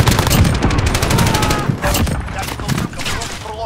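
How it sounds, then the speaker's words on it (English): Rapid bursts of automatic gunfire in a Call of Duty Search and Destroy match, loud, close and nearly continuous, with sharp repeated cracks. "Shit, someone is shooting."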